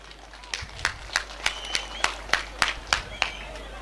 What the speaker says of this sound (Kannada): ಅವರ ಮಾತೆ ಚಪ್ಪಾಳೆ ತೊಟ್ಟುಡು